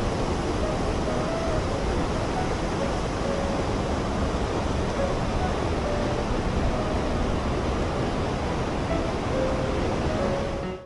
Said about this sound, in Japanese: 秋保大滝、想像以上に大きくて迫力がありました。